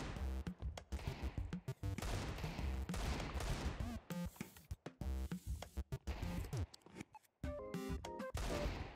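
Desert Eagle pistol shots in CS2 ring out loud and close in repeated sharp bursts, mixed with dense in-game action noise and brief gaps of near silence.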